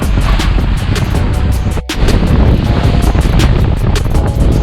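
A fishing boat trolls into rough seas, bow bouncing through the waves, with loud, constant wind roar buffeting the microphone, a brief dip in the rush, then an unbroken heavy blast of wind and water noise.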